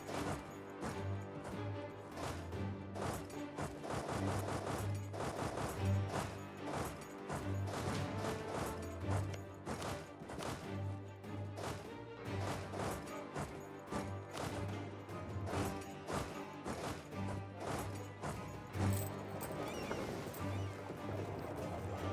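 Cannon fire in a Europa Universalis IV battle: repeated sharp crashing booms in an irregular, busy rhythm over a steady low drone and music, loud and continuous.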